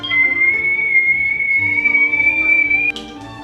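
A kettle on a stove whistles with a single shrill, steady tone that holds for about three seconds and then cuts off abruptly.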